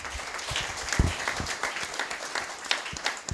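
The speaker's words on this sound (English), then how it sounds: "Let's give him a round of applause." An audience at a strategic thinking workshop and expo applauding, a moderate spread of hand claps with a few sharper individual claps standing out, continuing throughout without speech.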